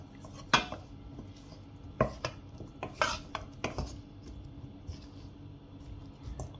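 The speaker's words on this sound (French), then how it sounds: "Allez, on va commencer à mélanger délicatement" A spoon clinks and scrapes in a bowl as diced mixed vegetables are folded gently with mayonnaise for a macédoine salad, giving sparse, soft knocks with quiet wet shuffling between them.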